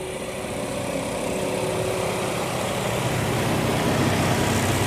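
Semi trucks idle in a packed highway jam on I-81 near Roanoke on a hot day, engines and air conditioning running, a continuous low diesel drone with a broad steady hum throughout.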